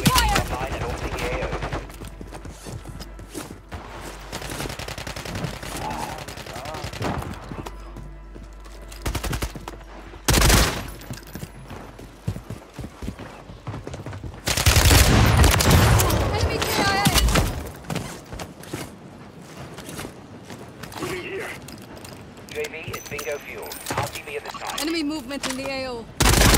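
Call of Duty Warzone gunfire: bursts of automatic fire and heavy shots crack through a busy game soundscape, with loud flurries midway and near the end, interspersed with radio-style voices talking.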